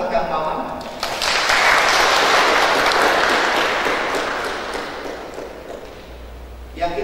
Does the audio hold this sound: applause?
yes